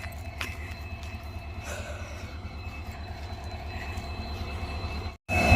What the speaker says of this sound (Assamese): এখন ৰেল পুৰা ষ্টাৰ্ট দিয়া আছে